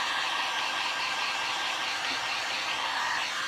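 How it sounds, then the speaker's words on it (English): A heat gun blows hot air over a refurbished metal tray, a steady, even rush of air humming throughout, close and constant with no breaks or voices. "I'm going to hit this with my heat gun"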